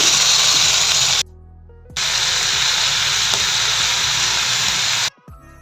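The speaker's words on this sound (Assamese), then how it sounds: "এতিয়া মই মাংসখিনি দি দিম" Chicken pieces dropped into a hot pan with garlic and chilli paste hiss and sizzle loudly and steadily, breaking off abruptly for a moment before the frying hiss returns just as strong.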